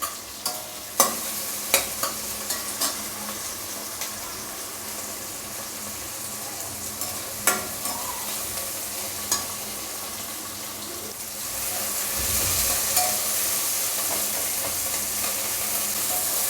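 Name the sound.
tomato and onion sautéing in a pan for sambar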